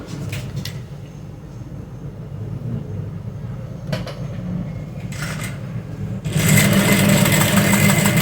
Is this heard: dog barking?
no